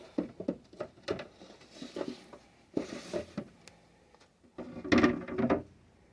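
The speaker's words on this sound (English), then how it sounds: "I'm just going to get these trays loaded into my dehydrator" Dehydrator trays slide and clack into place on a porch, a series of close, irregular plastic knocks and scrapes in bursts, with a louder rattling cluster near the end.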